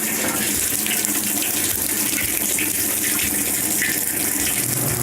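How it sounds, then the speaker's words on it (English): A Roper washing machine filling with water during a rinse cycle, heard as a constant loud rush and hiss of incoming water, steady for several seconds with no voices. "we will test in rinse just to make sure that the unit fills to the right level."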